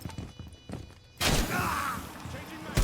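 A flashbang in Rainbow Six Siege goes off after some quiet thumps and footsteps, a sudden loud burst followed by a ringing, hissing tail.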